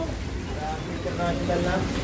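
Heavy rain pouring down during a trip in Hong Kong, a constant hiss of falling water under people talking nearby.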